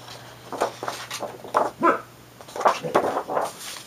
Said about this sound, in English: Sorry for my big dog is barking.